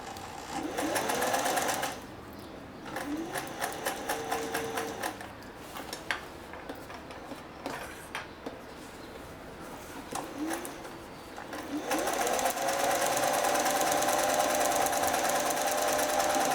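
A sewing machine runs steadily as it edge-stitches a denim apron, a close whirring drone with fast needle chatter. It is louder at the start and in the final stretch, with a softer, slower passage in between.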